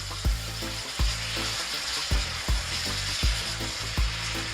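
Veggies fry in a hot pan with a constant bright sizzle, punctuated every second or so by a heavy thud of the pan or utensil being knocked, regular and close.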